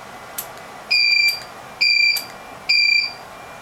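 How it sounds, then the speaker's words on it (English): Several Elinchrom Style RX 300 studio strobes beep together when recycled, three clear, evenly spaced electronic beeps about a second apart, loud and close over quiet room tone. "They're beeping exactly at the same time."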